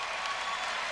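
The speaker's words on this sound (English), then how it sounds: "The crowd's going nuts." Crowd at a men's volleyball match between IPFW and Ohio State erupts in steady, dense applause and cheering after a defensive save, loud and continuous throughout with no break.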